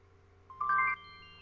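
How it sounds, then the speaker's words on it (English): A cell phone rings indoors with one short burst of bright electronic melody tones, over faint background hum and no speech. "Sorry, that's my cell phone."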